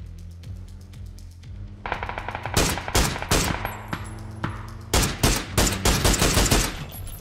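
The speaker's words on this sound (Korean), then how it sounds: "저쪽에서 총소리 들렸어요" Bursts of rapid gunfire from the video game PlayerUnknown's Battlegrounds crack out in several volleys, sharp and loud, with short pauses between rattling automatic shots.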